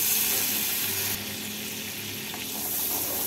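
Butter melts into a little hot oil left over from frying vegetables, sizzling steadily and loudly up close with faint stirring and no talking.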